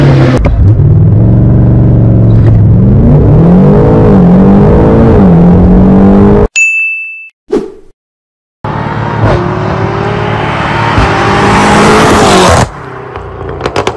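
A 591 BHP performance car roars loudly, its engine note climbing through revs, cuts out briefly, then sweeps past again in a close, rushing fly-by with a broad, hissing rush before fading.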